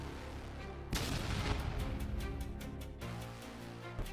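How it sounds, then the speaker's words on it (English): A kamikaze FPV drone strikes enemy soldiers in a sharp, sparking explosion: a sudden broadband blast near the start, a rough rumbling, crackling decay, then a smaller thud near the end, all somewhat distant and muffled. "As the kamikaze drone hits the enemy, a sparking explosion occurs."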